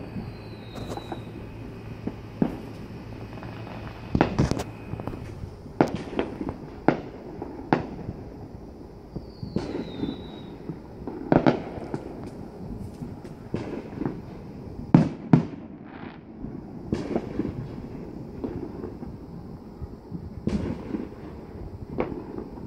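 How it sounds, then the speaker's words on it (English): Fourth of July fireworks pop and crackle in scattered bursts, some sharp and close, others softer and distant, over a steady background rumble. "See the fireworks there."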